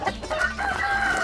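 A rooster crows loudly over a backdrop of hens clucking nearby, the bird calls overlapping in a busy, continuous barnyard chorus.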